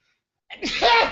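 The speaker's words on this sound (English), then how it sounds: "I'm gonna sneeze." A single close sneeze bursts out loud after a moment of silence, a sharp intake followed by a breathy, sustained blast that tapers off.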